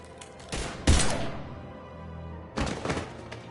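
Gunfire in the science-fiction shooter Mass Effect 3, two dense bursts of shots with a heavy thump, loud and close, separated by a brief rumbling lull.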